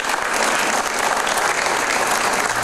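Sustained applause in the Guayaquil city council chamber, a thick, even roar of many people clapping throughout, without speech on top.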